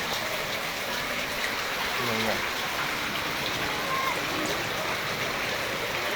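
Floodwater after nonstop heavy rain in Las Piñas rushes in a steady, dense wash of water and rain, close and continuous, with people speaking briefly over it.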